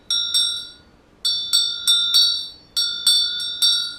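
A small ritual hand bell rings bright and clear in uneven bursts of strikes, each tone ringing briefly before the next, close by with no talking.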